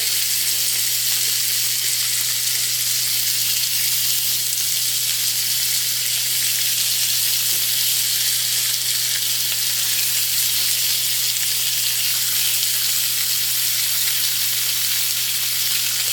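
Food frying in a hot cast iron pan gives a loud, steady, close sizzle that holds evenly from start to finish, with no voices.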